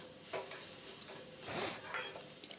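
Eggplant and soybean frying in a pan give a quiet, steady sizzle, broken by a few soft clinks and stirring scrapes of a utensil.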